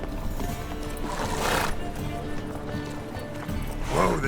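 Roach the horse gallops in Witcher 3, hooves clip-clopping steadily under game music and ambience, with a short whinny near the end.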